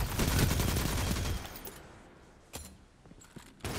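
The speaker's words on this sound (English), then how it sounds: "That's a machine gun." Machine gun fire in Destiny 2, a dense rattling burst up close that cuts off after about a second and a half, followed by a couple of sharp isolated shots and a brief renewed burst at the end.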